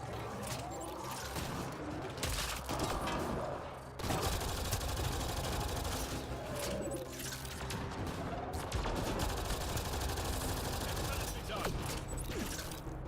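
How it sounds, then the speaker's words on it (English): Gunfire and a launched grenade in the video game Mass Effect Andromeda, with dense bursts and crashing blasts running almost continuously at a loud level, broken by brief sharper impacts. "Launch the grenade!"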